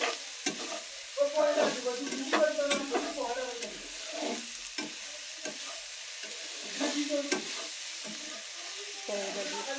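Okra frying in a pan is stirred with a spatula, giving a soft sizzle under irregular scrapes and clinks, with a faint voice now and then.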